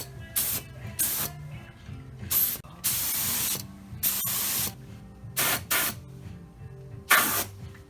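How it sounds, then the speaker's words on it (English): Several short bursts of spray paint as primer coats go onto a Chevelle's trunk and rear body, each hissing blast separated by brief pauses, with faint mechanical clicking underneath, close and fairly loud. "I'm gonna go ahead and put 3 coats of primer over all this"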